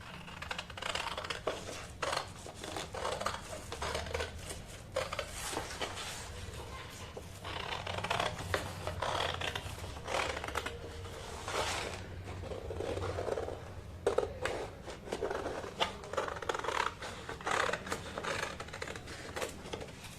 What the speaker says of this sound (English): I am cutting straight line.